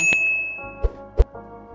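A single bright notification ding rings out and fades, followed by a couple of soft taps.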